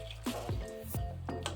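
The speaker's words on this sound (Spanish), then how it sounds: "Y le vamos a poner agua hirviendo" Boiling water is poured onto pork lard in a kitchen, giving a run of four or five wet, dripping splashes and glugs close by.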